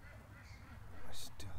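Ducks quack and honk faintly outdoors in a short, irregular burst of calls amid low background noise.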